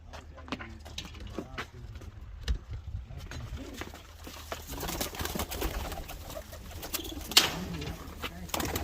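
Low pigeon coos and fluttering bird sounds fill the background, with people talking nearby and occasional sharper noises.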